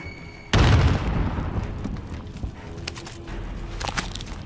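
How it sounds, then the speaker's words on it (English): A grenade explodes in Modern Warfare Warzone with one sudden, loud, close boom, then a long rumbling decay and scattered small impacts and clatter. "I'm gonna throw a grenade out just in case"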